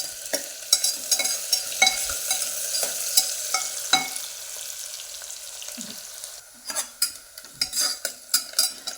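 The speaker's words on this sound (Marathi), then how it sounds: "कांदा पण छान परतून घ्यायचा त्याला असं एक मिनटासाठी असं सारखं असं हलवत राहायचं" Onion sautés in a pan for village-style plain khichdi rice, a steady close sizzle with repeated spoon scrapes and clinks against the metal as it is stirred continuously.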